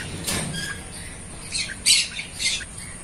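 Green-cheeked conures, including pineapple and yellow mutations, give several sharp, shrill squawks in an aviary cage at a bird zoo, close and loud in short bursts.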